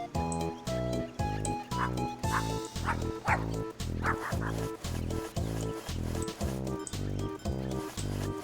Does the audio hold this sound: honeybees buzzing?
no